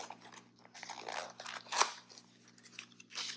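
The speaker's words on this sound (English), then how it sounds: "I'm just gonna like rip this open because I didn't bring my scissors over here." Crinkly tearing and crunching of a small packet being ripped open by hand, close up, with a sharp snap partway through and soft rustling around it.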